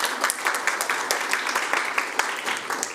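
Audience applause at a Board of Education business meeting, a steady patter of many hands clapping with sharp individual claps standing out, moderately loud throughout with no talk over it.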